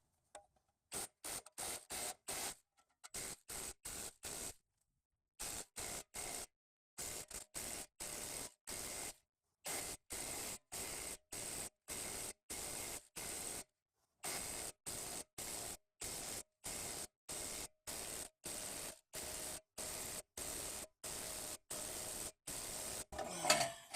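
Heavy impact driver rated to 1,400 foot-pounds, hammering on a Toyota Camry front wheel hub bearing: dozens of short, sharp bursts in a rapid stop-start rhythm with brief silences between, close and loud throughout.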